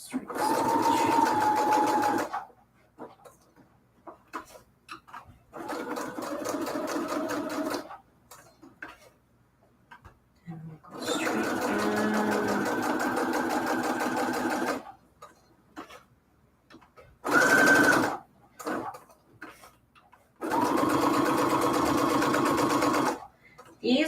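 A sewing machine running a straight stitch without a foot pedal, heard as steady whirring runs of rapid ticking stitches in several separate bursts, with pauses of quiet between them and a voice talking at times.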